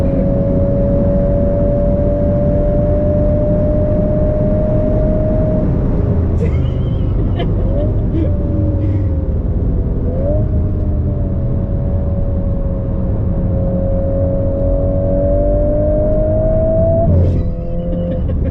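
A Mk8 VW Golf R accelerates hard around Goodwood Motor Circuit, a loud steady engine drone heard from inside the car, pitch climbing through gear changes, with a few brief clunks and occasional voices.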